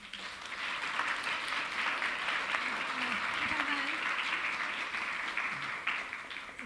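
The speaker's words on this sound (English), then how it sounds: "Please an applause for our panelists." Conference audience applauding the panelists at an economic risks and trends event, a dense, steady roar of clapping throughout with a faint voice briefly audible underneath.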